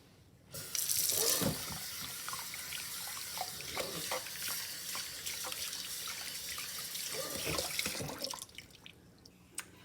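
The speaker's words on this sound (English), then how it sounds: "now our next step is to rinse them off with clean, warm water" Warm tap water runs into a kitchen sink while dishes are rinsed, a steady splashing stream with clinks and drips, close and continuous before tapering off near the end, with no talking.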